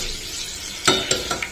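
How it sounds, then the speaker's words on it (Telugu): Red chillies fry in hot oil in a bowl on the stove, a steady close hiss of sizzling with a few sharp spatters and clinks of stirring near the end, with no talking. "ఇప్పుడు మనం దీనిలో రెడ్ చిల్లీ వేసుకుందాం."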